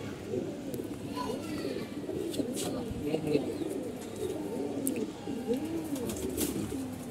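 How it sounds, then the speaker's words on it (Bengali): Several pigeons of an old breed, kept in a loft, coo in repeated rolling phrases close by, with faint background noise and no clear speech. "আমাদের কবুতর গুলো আপনারা দেখতে পাচ্ছেন"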